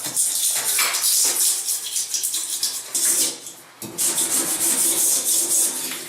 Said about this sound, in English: I'm going to get a scraper and make sure I get all the edges here